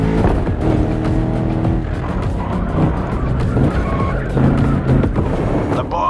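Engine roar and tire squeal from a 1960s–70s Boss muscle car racing in The Crew Motorfest, loud and continuous throughout with skidding bursts and music-like tonal layers.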